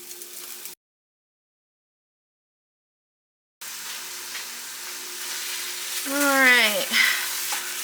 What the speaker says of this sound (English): we're going to go ahead and add in our 2 pounds of sausage